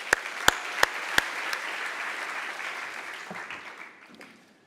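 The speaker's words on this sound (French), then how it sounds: "Et on l'applaudit très fort." Audience applause at a thesis presentation contest rises as a steady patter, with a few sharp, close claps standing out at the start before the clapping thins and fades away near the end.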